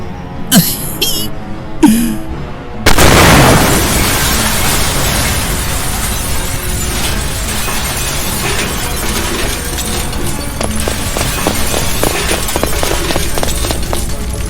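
Dynamite explosion in a Batman motion comic: after a few brief vocal grunts, a sudden loud blast erupts and rolls into a long sustained roaring, crackling rumble with debris-like clatter.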